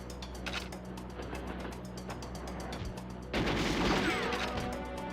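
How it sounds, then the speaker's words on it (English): Gunfire in the Goldeneye 64 video game, a steady stream of quick repeated shots at moderate level, swelling into a louder, noisier blast partway through. "Gunfire"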